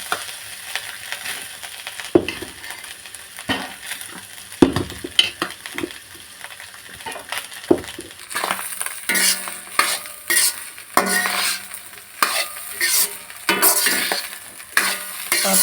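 Rice being stirred in a cooking pan with salt, giving scraping, rustling strokes and light clinks of a utensil against the metal, with a sizzle underneath, close and fairly loud.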